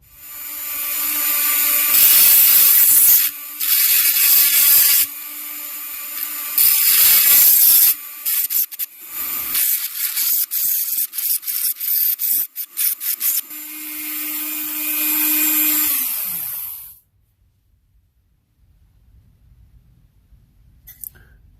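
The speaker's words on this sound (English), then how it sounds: "grind on that tab a little bit right there and right here" A grinder cuts the tabs off the muffler of a Husqvarna 55 chainsaw, a loud, close, high whine in long sustained bursts with brief pauses, then stopping and winding down into near silence.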